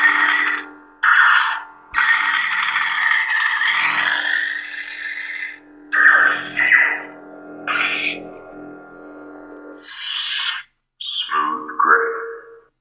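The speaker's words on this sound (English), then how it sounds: "So again, blaster bolts, you know, blade lock up, hold it down and hit the saber." Neopixel lightsaber with a Proffie sound board firing a series of electronic effects: buzzing blaster-bolt bursts and a sustained crackling blade lock-up, loud and close, in separate bursts with short gaps.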